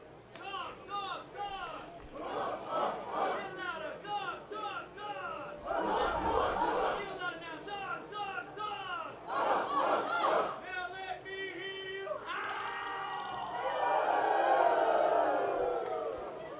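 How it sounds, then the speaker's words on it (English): A baseball crowd at a game in Okotoks reacts to a foul ball with rising oohs and ahs, a broad wash of many voices swelling and fading in waves, with some chatter mixed in. "Crowd oohs and ahs."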